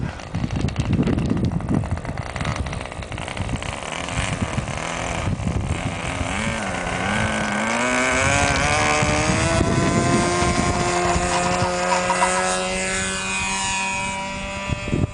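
An RC model airplane engine taxis on the ground, buzzing loud and close with a high whine that rises and falls as the throttle changes, with no talk over it.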